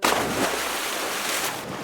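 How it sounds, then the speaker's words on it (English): Storm waves toss a ship in a read-along sound effect, a loud rushing wash of surf and wind with a brief swell, and no voice over it. "Huge waves toss the ship back and forth."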